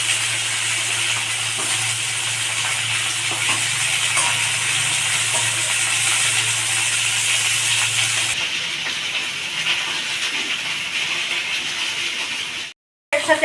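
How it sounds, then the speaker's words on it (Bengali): Eggplant fries in a pan with a loud, continuous sizzle and hiss that shifts tone partway through, then cuts off abruptly near the end, with no talking. "এইটা ভেজে দেবো, ভালো করে ভেজে দেবো।"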